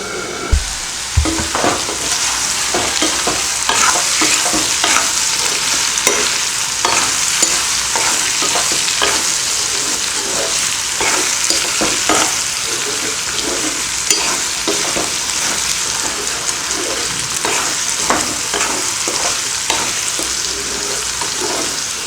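Potato fry for a simple Tamil lunch sizzles steadily in an oiled pan for the whole stretch, with repeated scraping stirs of a spatula cutting through the frying hiss; no talking.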